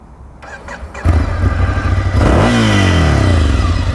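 A Ducati Scrambler Desert Sled motorcycle engine cranks and catches, then settles into a loud, close, throbbing idle and is revved upward in a rising, aggressive snarl, with no one talking.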